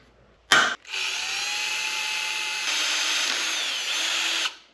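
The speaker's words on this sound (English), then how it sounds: "Okay, so then now you simply just drill that out." After a brief sharp knock, a power drill whirs steadily for a few seconds while drilling a motorized bike part, its pitch shifting slightly as it bores through material, then stops.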